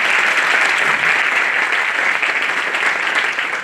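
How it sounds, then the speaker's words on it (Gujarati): An audience applauding to welcome a Swami at a talk, with dense, steady clapping that is loud and sustained throughout and no voices over it. "એ બદલ સ્વામીજીનો ગળગળાટ તાળીથી આપણે સ્વાગત કરીએ."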